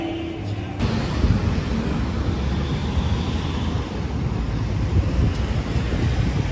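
Strong wind buffets the microphone at an outdoor spot in Parqal, Baclaran, starting abruptly and holding as a loud, continuous low roar.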